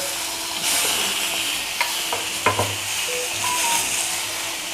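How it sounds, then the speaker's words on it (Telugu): Tomatoes cooking down in oil in a pan for a chilli tomato urad dal chutney give a soft, steady sizzle, broken by a few sharp clicks and scrapes of a spoon against the pan, with no voices. "ఇప్పుడు టమాటాలు మగ్గబెట్టుకోవాలి"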